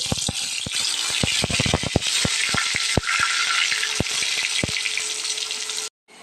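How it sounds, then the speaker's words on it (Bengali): Potatoes fry loudly in hot oil in a pan on a stove, giving a dense steady sizzle broken by many sharp clicks and rattles of a utensil against the pan, and the sound cuts off abruptly near the end. "এখন তেলে ভাজবো"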